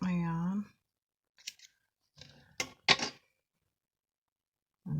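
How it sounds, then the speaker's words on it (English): Scissors snipping through crochet yarn: a few short, sharp cutting clicks close by after a brief bit of talk, with a voice returning at the end. "I'm just going to quickly cut my yarn"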